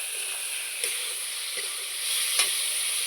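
A paste of ground tomato, ginger, garlic, green chili and onion sautéing in a pan gives a steady, even sizzle with a few faint stirring taps, close and fairly quiet, with no voices.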